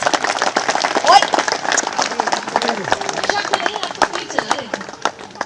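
A crowd claps loudly at a Holi celebration with CRPF personnel, rapid irregular hand claps mixed with cheering voices and crowd noise throughout.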